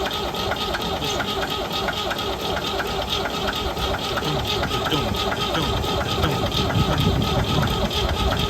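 A tractor engine idles continuously with a busy, clanging, metallic rattle from inside, steady and close throughout.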